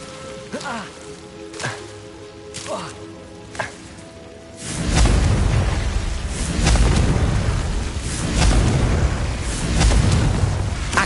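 Fiery Confringo blasts from the Hogwarts Legacy video game burst in a loud, dense run of explosive booms and crackling debris, following several sharper spell hits and faint voice calls.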